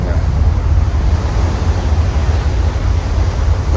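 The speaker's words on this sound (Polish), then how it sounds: "Szkoda, że ja wam nie mogę pokazać tego, jakie te fale naprawdę są duże." Large ocean waves surge against a ship sailing toward Antarctica, a loud, steady low roar of surf and wind buffeting the microphone throughout.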